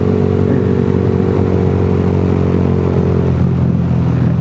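A small motorbike rides along a city road at night, its engine droning loud and steady with a rough rattling tone and constant wind rush, close up throughout.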